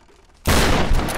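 After a brief quiet moment in the game Tomb Raider, a single loud gunshot bursts out, sharp and close, its blast ringing on to the end.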